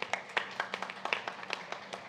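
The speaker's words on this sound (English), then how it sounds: "A round of applause from all of you." Sparse round of applause from an audience at a film-industry event in Uttarakhand, with separate claps in an uneven rhythm, moderately faint and slightly distant.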